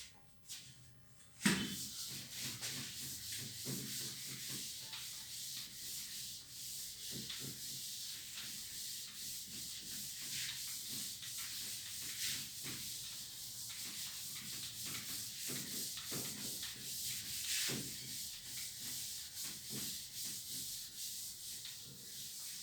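Writing being erased from a board in a maths class makes repeated close rubbing and wiping strokes, steady and fairly quiet, after a sharp knock at the start.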